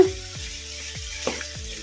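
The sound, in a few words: chicken masala frying in pan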